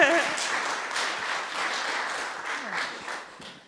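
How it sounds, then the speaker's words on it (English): An audience at a Women in Film award presentation applauds steadily, a dense wash of clapping that holds through the moment with a voice or two faintly mixed in. "Yes, you can clap."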